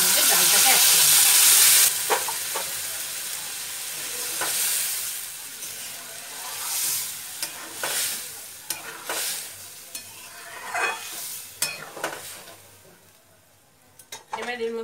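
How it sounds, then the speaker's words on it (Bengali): Moong dal tipped into a hot frying pan, starting with a loud burst of sizzling and steam hiss that settles into steady frying, with stirring scrapes and clicks over the rest. "এবার এর মধ্যে ডালটাকে অ্যাড করব"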